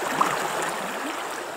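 Swollen Razdolnaya river at Pokrovka running full after a night of rain, a steady broadband rush of moving water close by with no voices.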